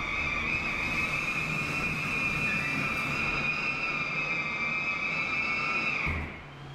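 A steady, hollow roar of a train departing through the tunnel at Misashima Station on the Hokuhoku Line, with rushing wind and a high whining tone, fading out abruptly near the end.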